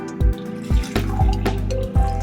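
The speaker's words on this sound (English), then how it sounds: "then pour your boiling water" Boiling water pours into a mug over mashed fresh ginger slices, a steady liquid stream with a few short splashy onsets, close and clear with no talking.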